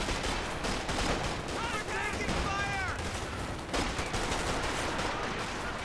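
Game battle noise from Company of Heroes 2 with a pack howitzer barrage somewhere in the fight, heard as a continuous dense wash of gunfire and explosions that is loud throughout while a commentator talks over it.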